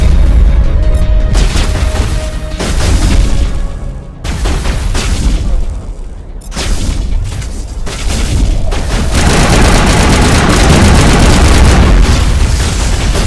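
Loud, booming shotgun blasts in the video game Mass Effect, several heavy reports with dense rumbling action and explosions continuing throughout.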